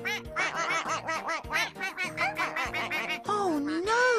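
Cartoon ducklings from a nursery-song animation, rendered as a rapid run of high, bright quacks and squeaky chirps, close and lively with short gaps, ending in a long wavering cry.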